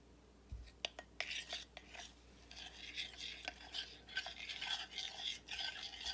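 A spoon stirs Christmas sprinkles into melted chocolate in a bowl, giving quiet, close scraping and clinking strokes, with a few sharper taps near the start and a steady soft swirl after.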